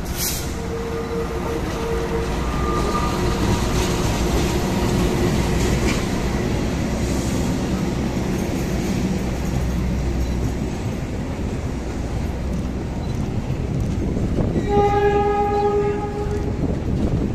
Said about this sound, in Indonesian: Jalur 3 dari utara hati-hati kereta api melintas langsung.